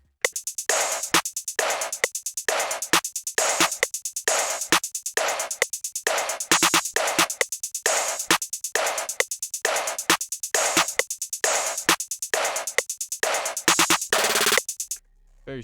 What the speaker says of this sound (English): After that, I added the snare and the clap that sounds like this.